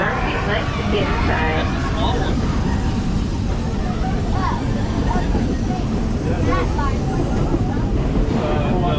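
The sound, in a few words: roller coaster train rumbling past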